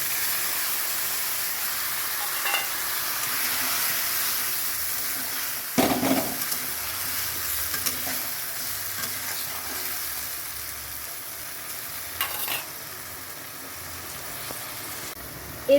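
Onion and tomato paste frying with browned potatoes in a pan for a chitol fish curry, a steady close sizzle and hiss with occasional stirring scrapes and clatters, no voices.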